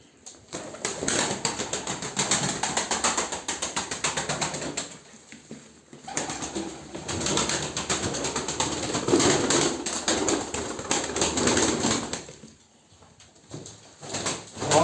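Pigeons coo amid bursts of rustling wing flaps and shuffling, loud and close, with a couple of short quieter pauses.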